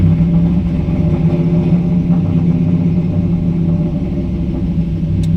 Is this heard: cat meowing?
no